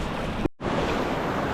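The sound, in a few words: ocean waves at a sandbank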